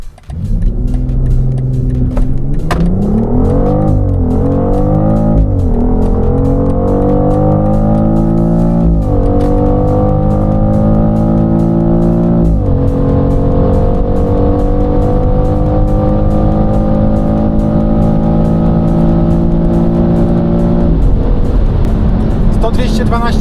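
A BMW X3 M50 SUV accelerates hard from standstill to 200 km/h, heard loud from inside the cabin, the engine climbing steeply through each gear with brief dips at the shifts before settling into a long, high, steady drone.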